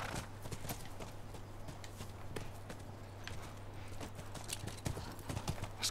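Horses trot in the video game The Last of Us Part 1, a steady close clip-clop of hooves over quiet outdoor ambience, with an occasional faint snort and no talking.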